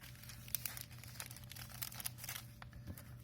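A thin plastic cello bag sleeve for diamond painting release papers is handled close up, giving continuous crinkling with sharper crackles over about three seconds; no talk.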